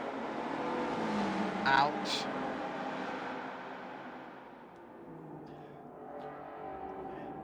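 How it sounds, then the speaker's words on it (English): Historic touring car engine droning steadily inside a tunnel in a racing video game, a continuous broad rumble that slowly fades, with a brief spoken exclamation over it. "it oddly feels satisfying just hearing the engine drone out in the tunnel"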